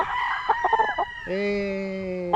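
A young gamecock stag rooster gives a short run of clucks, then a sustained loud crow, close and clear.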